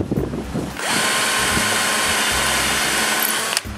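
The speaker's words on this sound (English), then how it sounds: "I begin by drilling a shallow hole with a Vicks bit for a number 12 screw." Power drill with a Vix bit boring a shallow pilot hole for a number 12 hinge screw in a wooden shop door frame, a steady high whine starting after a brief rustle and running for about three seconds before stopping.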